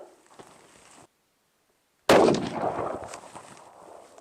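7mm PRC rifle firing a Federal Terminal Ascent factory load, a single sharp, loud shot that breaks a second of silence, followed by a decaying echo over faint background noise.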